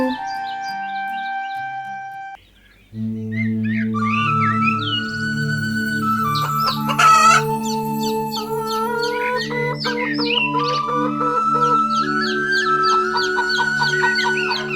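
A cartoon rooster clucks repeatedly in short bursts with an occasional crow, over steady sustained musical tones.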